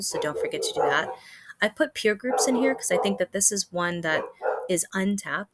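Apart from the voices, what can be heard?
dogs barking in the background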